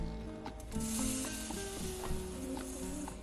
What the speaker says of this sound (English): we're gonna go ahead and let this fry up till it gets to a nice golden brown